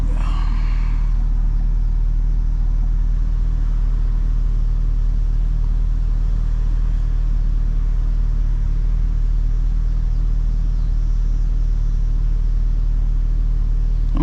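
A C6 Corvette's engine rumbles deep and steady while driving, a constant low drone with a brief louder burst at the start, close and unbroken throughout.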